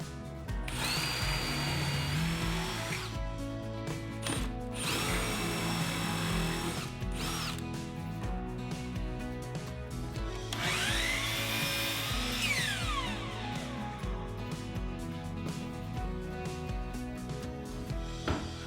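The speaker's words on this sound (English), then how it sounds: "I'll drill a pilot hole through the top of the shelf" A power drill bores a pilot hole through a wooden shelf top in several sustained bursts, its whine rising and falling as the bit bites, close and loud throughout.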